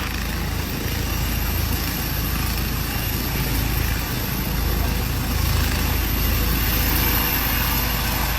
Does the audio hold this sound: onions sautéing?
no